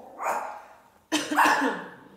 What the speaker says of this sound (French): il y a mes chiens qui se sont emballés